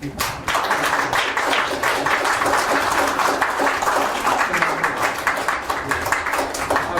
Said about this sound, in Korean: 이강호 위원님 큰 박수로.